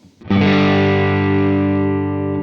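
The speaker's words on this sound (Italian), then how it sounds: "Come sentite questo è un bel overdrive molto caldo." A warm, heavily overdriven electric guitar chord captured through a Quad Cortex rings out once and sustains for about two seconds with a rich, buzzing tone, alone with no talk.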